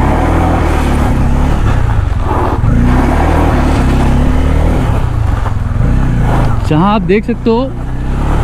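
Bajaj Pulsar N250 motorcycle ridden over gravel, a close continuous engine drone with rising and falling revs, under someone talking throughout.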